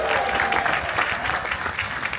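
A comedy show crowd bursts into loud, dense applause that holds steady throughout, mixed with a few scattered whoops.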